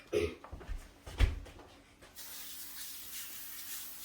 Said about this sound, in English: It says to spray even the paper, so I'm going to do that